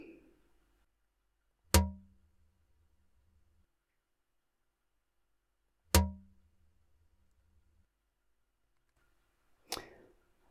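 Three sharp bangs ring out a few seconds apart against a rock called devil's rock in Finland, each trailing a resonant, roughly one-second reverberant tail ringing at multiple frequencies that dies away into silence.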